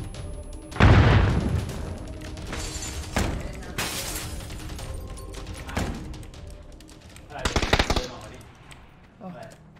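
Loud, booming blasts and gunfire from the game PUBG burst out several times, with a sharp grenade explosion near the start and further bangs through the rest.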